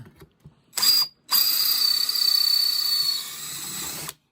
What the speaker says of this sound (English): That is one dull drill bit for sure.